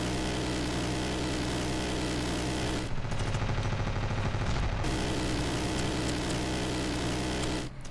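Minigun gunfire in the video game Ravenfield, a dense, continuous roaring burst that drops out briefly in the middle and then resumes just as loud, with no talking.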